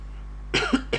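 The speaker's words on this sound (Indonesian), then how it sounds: "batuk." A single person coughs in a quiet room during a classroom lesson: two harsh, close bursts, a longer one followed by a short second cough, after a moment of near silence.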